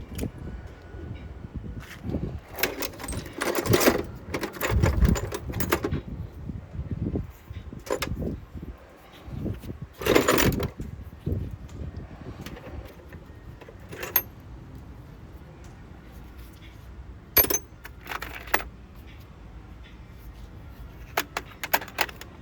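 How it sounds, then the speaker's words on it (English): Mechanic's hand tools being rummaged through in a pile while working on a 2020 Dodge Ram 1500 water pump: repeated metallic clanks, jangles and scrapes in irregular bursts, close and fairly loud, with quieter pauses between. "I'm trying to get my tools to work with."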